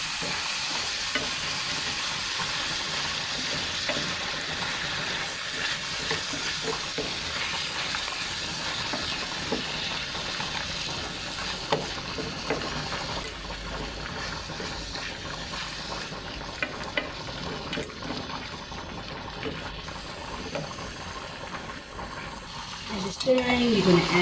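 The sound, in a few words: stirring food in a pan while adding a little water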